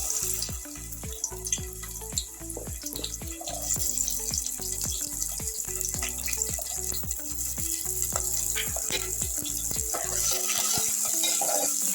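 Onions fry in hot oil in a pan, a continuous close sizzle and crackle with a steady hiss throughout, punctuated by frequent short spits and pops, heard alone without speech.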